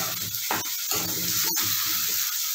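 Spices fry in oil with salt in a pan, a continuous close hissing sizzle broken by a few brief scraping stirs and one sharp click, with no talk.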